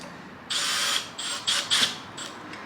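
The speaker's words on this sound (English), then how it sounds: "I'm gonna take my drill bit, my Phillips. I'm gonna tighten this up." A power drill fitted with a Phillips bit drives a screw tight while installing a cheap Chinese diesel heater, several short whirring bursts close up separated by brief pauses.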